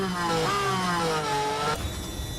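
Lando Norris's Formula 1 car in the F1 Manager 24 racing game at Abu Dhabi screams at high revs, its pitch dipping and climbing through gear changes before dropping away as the car backs off, loud and alone.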